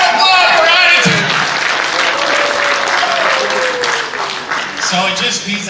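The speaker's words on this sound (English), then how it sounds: "Round of applause for attitude!" An audience at a CashFX launch event in Malaysia breaks into loud applause, close and sustained, while a speaker's voice and some shouts carry over the clapping.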